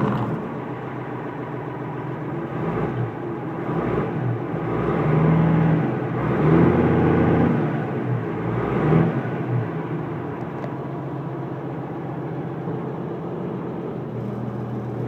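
An M35 deuce and a half military truck with a turbo engine cranks and catches, swelling to a louder rumble mid-way before settling into a steady low idle.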